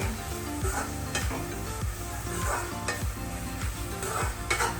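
Onions with salt frying and softening in a pan, a steady loud sizzle punctuated by rhythmic scrapes and clinks of a spatula stirring against the metal.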